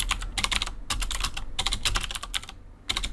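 Rapid, uneven keystrokes on a computer keyboard clatter close to the mic in dense bursts with a brief pause near the end, no one speaking.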